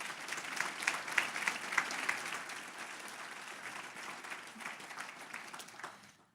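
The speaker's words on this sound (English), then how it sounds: "If we give them a round of applause" Applause from an audience at an education event, a steady wash of many hands clapping for several seconds before tapering off at the end.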